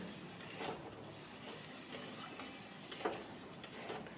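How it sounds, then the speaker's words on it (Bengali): Ridge gourd fries with spices in a pan while being stirred: a quiet, low sizzle broken by light ticking scrapes of a spatula against the pan. "এবার চিচিঙ্গাগুলোকে দিয়ে দেব দিয়ে মশলার সাথে ভালো করে আবার কষিয়ে নেব"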